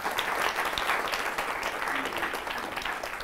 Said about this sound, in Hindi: जोरदार तालियां इनके लिए हैं।